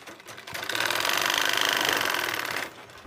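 A sewing machine stitches a pocket onto an Arabian jubba, its motor buzzing in one loud, steady run of about two seconds, close up, then stopping.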